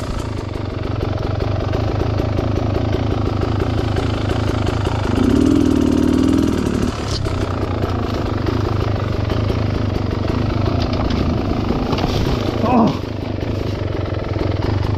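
A dirt bike idles with a steady mid-pitched chug on a wooded trail, rising briefly into a rev partway through, while people talk over it nearby.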